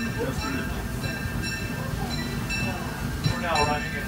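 Disneyland Railroad train running, a steady close rumble of rolling wheels and carriage noise with faint rail squeals, while a voice speaks over it.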